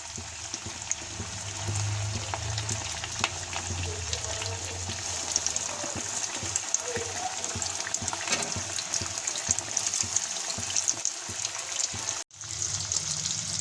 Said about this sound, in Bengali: এখন আমি গরম তেলের মধ্যে আটা মেখে রাখা মাছগুলো আস্তে আস্তে করে দিয়ে দেবো।